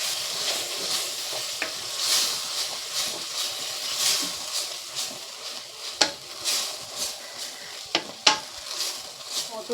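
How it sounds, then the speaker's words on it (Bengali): Ground spices including turmeric, chilli, cumin and coriander sizzle while being sautéed, a steady crackling fry broken by occasional stirring clatters and a few sharp knocks of a spoon against the pan. "মশলাগুলোকে একসঙ্গে আমি ভালো করে কষিয়ে নেব।"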